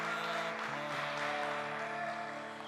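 An audience at the Lima 2023 WSPS World Para Shooting Championships, men's 10m air pistol SH1 event, claps in steady, continuous applause that fills the hall evenly and holds at a moderate level throughout.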